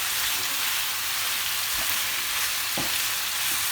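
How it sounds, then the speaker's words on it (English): Peppered lamb pot cooking over a fire: a steady, close sizzle and frying hiss with a few soft thuds and scrapes as the pot is stirred, no voices. "Give it another stir."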